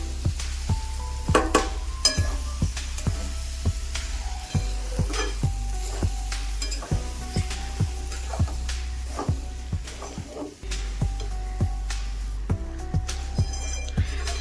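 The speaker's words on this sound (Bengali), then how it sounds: "সবজির সাথে সুজিটাকে একটু মাখিয়ে নিই" Roasted semolina being stirred into soft vegetables in a pan for Bengali suji upma makes a steady low sizzle, with repeated close scrapes and clinks of the spoon against the pan in an uneven rhythm.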